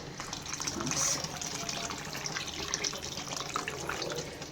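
Hot water poured into a clay pot while cooking chicken, a gushing, bubbling pour that swells loudest around the first second and then continues more softly, close by with no talk.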